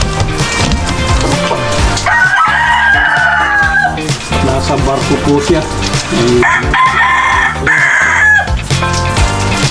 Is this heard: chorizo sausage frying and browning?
no